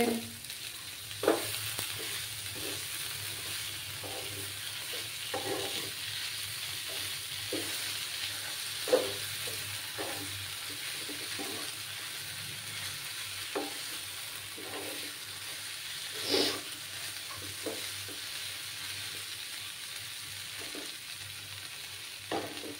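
A soybean mixture with salt is stirred in a pan, a soft ongoing sizzle broken by repeated scraping strokes and occasional clacks of the utensil, close by and without speech.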